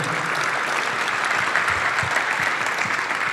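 An audience applauds a Basketball Hall of Famer at a live summer talk event, a steady, dense wash of clapping that holds evenly throughout with no voices over it.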